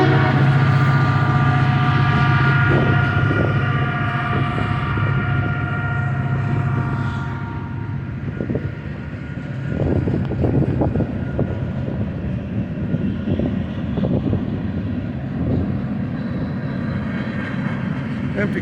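A Canadian Pacific freight train of empty flatbed cars rolls past close by, with a loud, steady rumble and clattering wheels and a sustained horn-like tone early on, continuing throughout.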